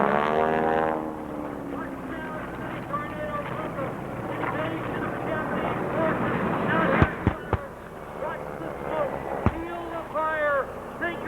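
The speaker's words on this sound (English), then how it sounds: "Watch high above is the blue aircraft, the FM-2 Wildcat" At an air show in Clark County, Indiana, a blue FM-2 Wildcat propeller fighter drones overhead, its engine a steady rising and falling roar. A few sharp pyrotechnic bangs cut through, and an announcer talks over the aircraft noise throughout.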